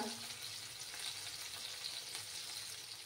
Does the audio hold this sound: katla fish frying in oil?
yes